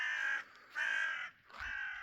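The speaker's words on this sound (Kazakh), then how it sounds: "Қарғаның дауысы естіліп жатыр тек қана." A crow caws three times in a quiet village at dawn, each harsh call drawn out and loud against near silence, with short pauses between them.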